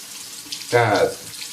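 Safety razor rinsed under a running tap, a short close burst of splashing water lasting about half a second between quieter moments.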